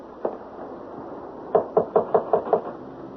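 Knuckles rapping on a wooden door: one lone knock, then a quick run of about six firm, evenly spaced raps, close and clear with no talking.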